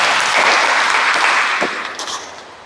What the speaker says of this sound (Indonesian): tepuk tangan untuk Bapak Ibu semua nih